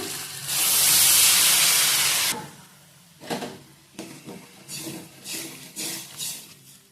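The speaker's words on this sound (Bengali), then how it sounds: "আলু সেদ্ধ করে নেওয়ার জন্য দিয়ে দেব জল।" Water is poured into a hot pan of fried fenugreek greens to boil potatoes. It gives a loud steamy hiss lasting about two seconds, followed by softer intermittent scraping and sizzling bursts.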